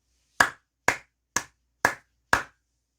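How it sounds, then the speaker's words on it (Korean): Five sharp, evenly spaced hand claps ring out alone, close and crisp, each with a brief decay and silence between. "여러분 크게 박수 한번 치고 가도록 하겠습니다."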